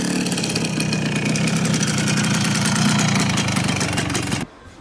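A 1970 Honda Z50 minibike's small engine runs steadily with a close, buzzing putter for about four and a half seconds, then cuts off abruptly to near silence.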